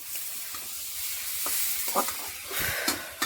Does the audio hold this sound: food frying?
yes